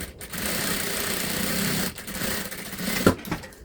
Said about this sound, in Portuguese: Aqui na parte da abertura do bolso, eu vou fazer um pesponto.